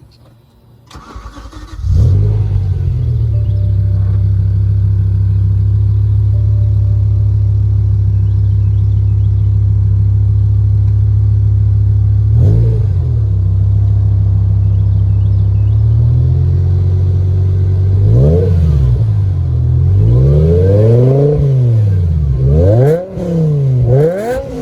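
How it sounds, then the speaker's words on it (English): BMW M6 V10 coupe with an aftermarket exhaust starts up into a deep, loud steady idle, then blips the throttle repeatedly near the end in rising and falling revs. "The car does have an aftermarket exhaust, which I will show you in a second."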